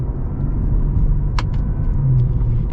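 A sport sedan's engine and exhaust give a loud, steady rumble from inside the car, with one brief sharp transient partway through and no talking.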